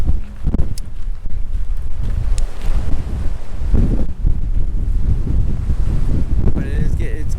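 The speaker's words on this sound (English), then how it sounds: "But it's getting really, really, really windy." Strong wind in Joshua Tree National Park buffets the microphone with a constant low roar and gusty rumbles, and a voice speaks briefly near the end.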